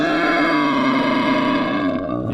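A bobcat sound effect: one loud, continuous growling roar lasting a couple of seconds, heard alone and close.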